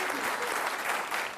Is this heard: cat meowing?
no